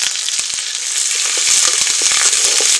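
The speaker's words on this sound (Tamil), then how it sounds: "இப்போது ரெண்டு பச்சை மிளகாய் இது கூட சேர்த்துக்கலாங்க. நல்லா வதக்கிக்கலாம்." Green chilies and curry leaves sautéing in a pan for a Tamil brinjal dish, a loud close sizzle of hot oil with quick scraping stirs and light taps, continuous and without voices.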